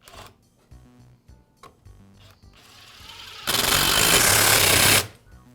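Screws driven into a Troy-Bilt string trimmer part by a power driver, with short tool bursts and clicks, then a loud, steady whirring run of about a second and a half, close up and without talk.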